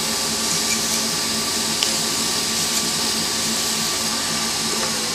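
Steady, continuous machine whir of a spinning wood lathe turning a pen blank, a constant broadband hum with faint tonal lines, running without pause and fairly loud.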